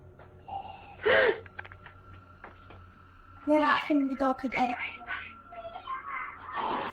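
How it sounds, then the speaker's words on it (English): A harsh, raspy breath rises suddenly and briefly, then a cluster of scratchy, wheezing breaths and rustling sounds follows close to the mic. "that sounds more like a rasp than heavy breathing"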